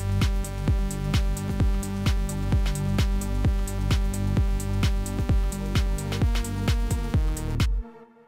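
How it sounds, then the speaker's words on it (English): A buzzy sawtooth synth lead from a Serum patch repeats fast triplet figures in a looping pattern, loud and unaccompanied, cutting off abruptly near the end. "So we're going to get straight into this saw lead."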